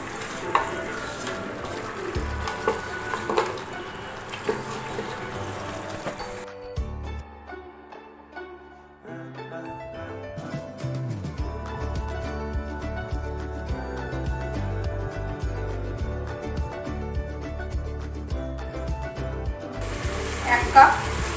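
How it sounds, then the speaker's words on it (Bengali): Mutton is stirred and fried in a pot while being cooked down for yakhni pulao, making a continuous scraping sizzle with brief pauses and a musical background throughout. "আমি মাংসটা নাড়িয়ে কষিয়ে নেব যাতে এই জলটা না থাকে, তেলটা উপরে উঠে আসে"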